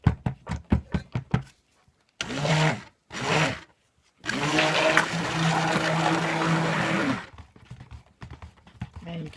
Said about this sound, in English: Get this stirred around before I hit it with my stick blender.